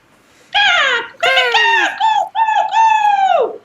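A person imitates a bird call with their voice, giving a series of loud, close, drawn-out cawing cries separated by short gaps.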